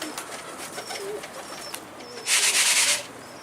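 Pigeons coo softly in the background while other birds chirp, broken by a brief rustling burst near the end.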